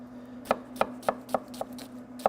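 Onions are diced for a risotto with a knife on a cutting board, giving seven crisp, evenly spaced chops close up over a faint steady hum, with no voices.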